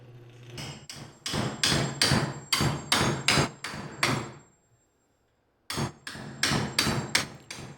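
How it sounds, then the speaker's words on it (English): Wooden shavehorse parts are pounded together with a hammer during assembly, two loud close bursts of rapid, evenly spaced blows separated by a short silent pause. "More pounding together, assembly after getting the holes lined up"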